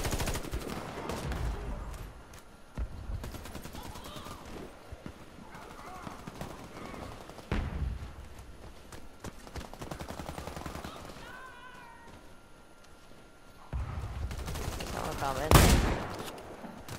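Automatic gunfire from a gun in the shooter Warface during team deathmatch, sustained close bursts of rapid shots with a louder blast near the end, while a player talks over much of it.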